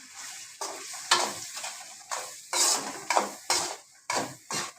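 Food frying in tempering oil in a pan, a bright sizzle rising in repeated bursts as it is tossed and stirred, with occasional clinks of a utensil against the metal.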